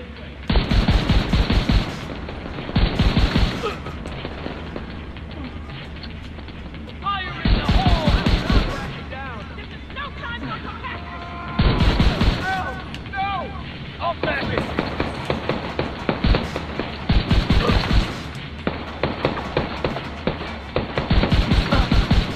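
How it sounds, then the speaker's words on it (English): Explosive-ammo gunfire in The Division 2: loud, rapid bursts of shots repeating in clusters over roughly twenty seconds, with battle noise and chatter filling the gaps between volleys. "That explosive ammo just shreds them."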